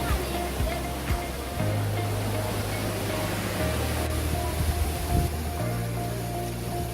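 Recoletos Falls waterfall rushing with a steady broadband roar, heard close and continuous, with faint low engine-like hum and brief voices in the background.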